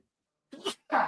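One person sneezes during a fantasy football podcast: a short two-part burst, a sharp intake followed by a loud explosive release, close to the microphone after near silence.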